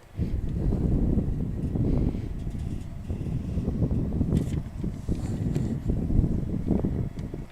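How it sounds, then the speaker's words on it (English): Steady wind buffets the microphone at a women's college soccer match in Pulaski with a low, continuous rumble, gusting unevenly for several seconds with no voices. "Windy day here in Pulaski."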